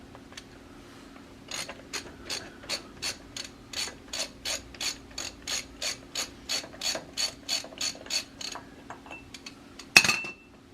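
A ratchet wrench clicks rapidly and steadily as a nut on a 1982 Jeep CJ7 Limited front hub is worked loose, a long run of crisp metallic pawl clicks ending in a sharper clink, close and clear with no talk.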